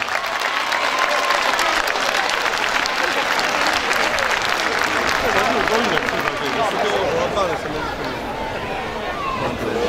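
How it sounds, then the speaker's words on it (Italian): Applause from a crowd at an Italian ceremony marking the 150th anniversary of national unification, loud and dense, with crowd babble mixed in and a slight easing toward the end. "applauso!"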